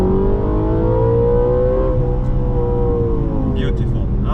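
Audi RS4 Avant wagon with its V8 engine revving loud and close, the pitch sweeping up then easing back down, with a few faint sharp sounds near the end.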